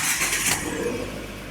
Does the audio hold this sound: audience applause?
no